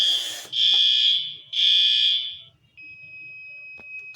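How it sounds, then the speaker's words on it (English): Fire alarm sounding during a test, two loud sustained electronic horn blasts close by, then cutting off to a faint lingering high whine. "Why did I pull the fire alarm?"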